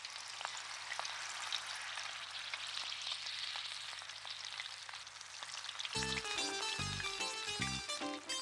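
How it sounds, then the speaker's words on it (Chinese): Snacks deep-frying in oil in an animated home kitchen make a quiet, steady sizzle with faint crackles, until a musical phrase cuts in near the end. "那油炸就让妈妈来做吧"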